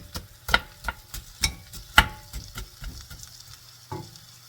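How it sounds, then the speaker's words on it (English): Diced potatoes fry in a pan for a breakfast casserole, a soft sizzle broken by a series of close, sharp scrapes and knocks as a utensil stirs them at irregular intervals. "We'll just give this a minute to cook. And we'll stir it around."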